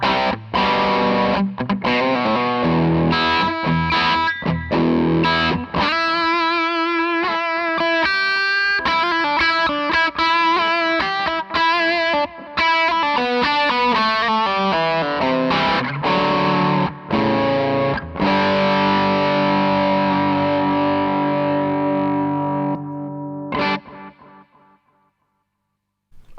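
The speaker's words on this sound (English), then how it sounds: "Also sounding great into the front end of the Dane is the treble booster side." Electric guitar through the treble booster side of a pedal into the front end of a Dane overdrive pedal, a loud, bright, driven tone with sustained chords and quick riffs played continuously, fading out at the end.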